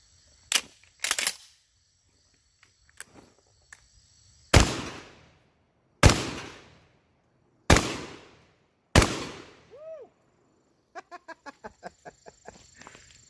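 Tristar Raptor ATAC 12 gauge semi-automatic shotgun firing turkey loads, four loud sharp blasts spaced a second or two apart, each with a decaying tail, following a few lighter clicks and clacks of handling, with faint metallic ticking afterward.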